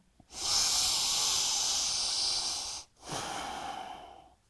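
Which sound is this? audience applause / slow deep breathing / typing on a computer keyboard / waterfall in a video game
slow deep breathing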